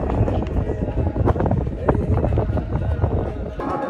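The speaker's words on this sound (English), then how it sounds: "It is so windy." Strong wind gusting outdoors in Banff, buffeting the microphone with a constant low rumbling roar that swells and dips over a few seconds, with no speech.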